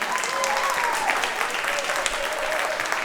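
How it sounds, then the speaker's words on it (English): Steady applause fills a church hall for the spoken word artist Lyrical Paradigm, the clapping even and continuous, with a few whoops and cheers carrying over it. "Y'all keep clapping for Lyrical Paradigm."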